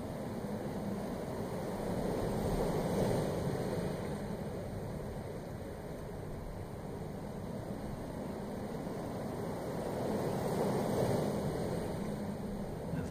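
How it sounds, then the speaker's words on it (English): Ocean waves in the game FAR: Changing Tides, a steady broadband wash that swells gently around the third and eleventh seconds, heard alone at a soft, soothing level. "It's listening to the waves."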